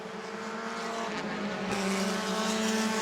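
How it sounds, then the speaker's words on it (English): Race cars on a dirt track blipping and burping their throttles, heard as a loud, continuous engine drone with rising and falling revs from several cars. "You hear them all kind of burping the throttle, backing out, trying not to break out."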